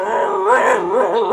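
A performer in a Rangeen Bhagait mandali stage show imitates a dog howling with his voice, a loud, continuous wavering howl with rising and falling pitch, close and alone.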